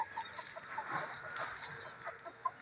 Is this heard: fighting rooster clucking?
yes